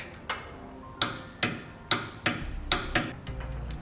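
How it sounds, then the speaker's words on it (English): A torque wrench and a second wrench tighten bolts on Firestone Ride-Rite air helper springs fitted to a 2012 Ford F-250, giving sharp, close metallic clicks in an uneven series of about eight. "Now we use a torque wrench and a wrench to tighten the hardware to the amount specified in the instructions."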